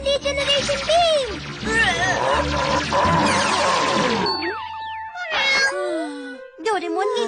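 A cat meows and yowls repeatedly in a Doraemon cartoon, giving loud, drawn-out cries that overlap with animated speech and sound effects, followed by shorter meows after a pause.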